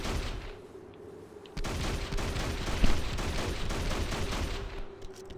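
Sustained gunfire in the Hunter: The Reckoning video game, a dense, steady stream of rapid shots that starts abruptly and continues to the end, with one sharper burst midway.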